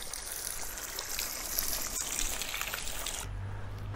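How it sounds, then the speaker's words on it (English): Water pours steadily into a stone storage chamber at the ruins of the ancient dock stores of Herculaneum, a continuous splashing trickle heard close by, ending with a low background hum. "They've got water pouring in there for some reason"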